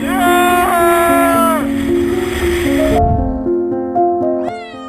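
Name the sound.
cat meowing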